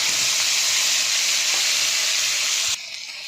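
Mustard paste sizzling hard in hot oil with nigella seeds and green chilli, a loud dense hiss that holds steady and then suddenly drops to a softer frying near the end.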